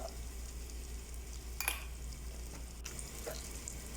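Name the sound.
ghee sizzling in a cooker for prawn biryani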